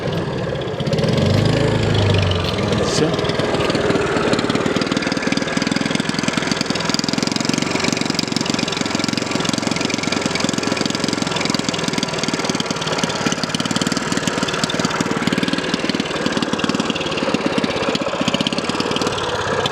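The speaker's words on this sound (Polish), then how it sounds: "tu jest mój sąsiad i mój inżynier sprawdzają silnik. Odpalili." An engine being tested idles with a steady, knocking mechanical rumble for a long stretch, close by, and a voice briefly speaks over it.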